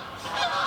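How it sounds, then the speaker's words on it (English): Canada geese honking outdoors, a brief cluster of nasal overlapping calls at moderate distance, no talking. "Canada geese."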